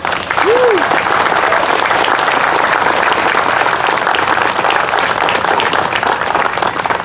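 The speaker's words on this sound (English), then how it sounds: "And I think these two men deserve a great round of applause." A crowd at a county fair opening ceremony applauds loudly and continuously, dense clapping from many hands filling the space, with a brief whistle near the start.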